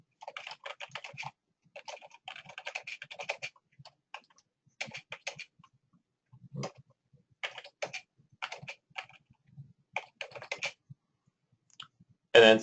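Someone types a file title on a computer keyboard in bursts of soft, close clicking keystrokes separated by pauses, with a louder click at the end.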